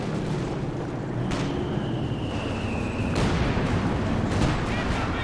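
Time on target artillery barrage in Company of Heroes 2, a 2v2 match: sharp shell impacts strike in a staggered series with a whistling streak between, loud over a constant rumbling battle bed.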